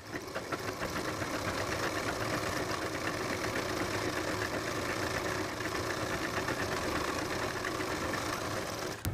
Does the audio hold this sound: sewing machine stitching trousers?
yes